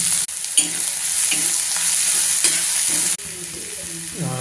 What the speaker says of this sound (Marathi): तेल गरम झाले ना, आता टाकणार आहोत जिरे.